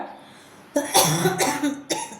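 One person coughs several times in a close, harsh burst, then a final cough after a short pause, with quiet room noise before.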